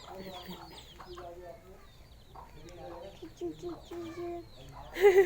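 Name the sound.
chickens clucking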